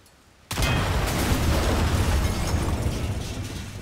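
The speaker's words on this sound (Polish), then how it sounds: "Fajerwerki." Firework-like explosion in the Mafia III video game, a sudden loud burst after a quiet moment that rolls into a sustained, crackling roar fading slightly toward the end.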